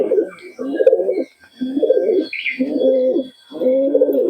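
Pigeons cooing at a pigeon market sale, close and loud, in four or five deep, rolling coo phrases separated by brief pauses, with a faint chirp in the background.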